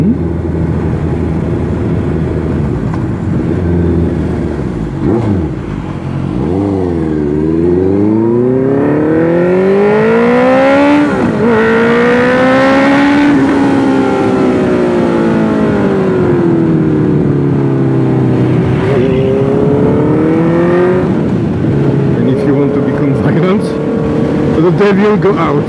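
Honda CB 650F motorcycle ridden on a road in Bali, Indonesia, the engine note rising and falling through several loud revving sweeps up close, with a voice talking over it at times.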